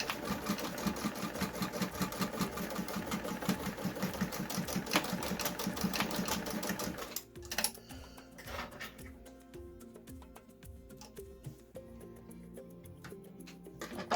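A sewing machine stitches the seam of a reusable fabric mask, back-tacking over the start and end. The fast, steady whir runs loud and close for about seven seconds, then stops, leaving quieter handling sounds.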